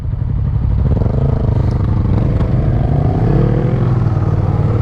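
A Suzuki SV650S (1999–2002) motorcycle engine running steadily nearby, a loud continuous rumble with a slight rise in pitch partway through.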